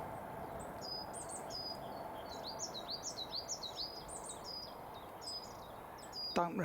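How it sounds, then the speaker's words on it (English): An unidentified bird sings a rapid run of high chirping phrases in woodland along a walk from Bow Brickhill to Leighton Buzzard, heard faint against steady outdoor ambience. "Don't recognise that bird in the background."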